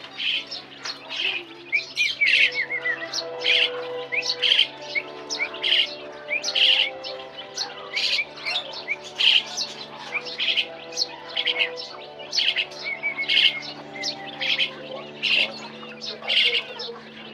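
Small maya birds chirp and squawk in a steady, busy chorus of sharp repeated calls, fairly close, with a low hum underneath and no talking.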